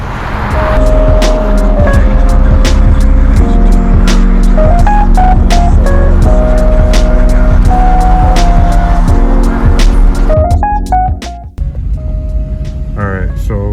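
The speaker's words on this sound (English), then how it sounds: "Let's see how the car drives." A 1985 Mercedes-Benz R107 500SL with its V8 engine drives along, a steady loud hum with rhythmic sharp ticks and clicks throughout, easing briefly near the end, as a voice speaks over it.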